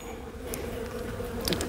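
Honey bees buzz around a hive frame during early split-making in an apiary, a soft steady droning hum of many insects with no voices.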